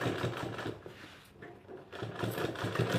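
A sewing machine stitches close along the edge of a collar on an apron, humming in soft pulsing runs that dip briefly in the middle before resuming, with no talk.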